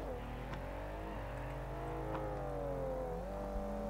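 A car engine in a video game police chase roars steadily, revving and accelerating with shifting pitch throughout, loud and continuous with no talk over it.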